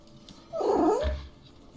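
A house cat lets out a single drawn-out, wavering meow, close and clear, lasting about half a second amid a quiet room.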